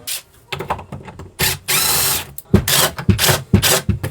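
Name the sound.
power drill removing pocket hole screws from plywood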